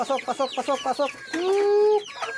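Chickens cluck in quick close bursts while being given mixed feed alongside pigeons, followed by one drawn-out call, loud and near.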